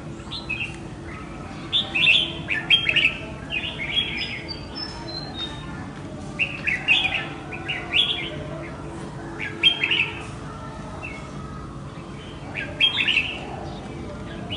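Red-whiskered bulbul chirps and short song phrases repeat in bursts every few seconds over a steady low hum of background noise.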